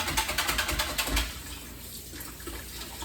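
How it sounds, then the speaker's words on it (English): Kitchen tap water runs steadily into a sink, loud and continuous at first, then settling into a softer, even stream with no voices. "That's why the water's been running."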